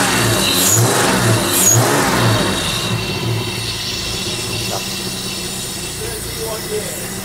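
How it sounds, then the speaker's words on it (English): A 1980s BMW M Sport six-cylinder engine, running again after sitting untouched for 30 years, revs loudly at first and then settles into a steady idle close by. "And it's idling really nicely, isn't it? We've got it running."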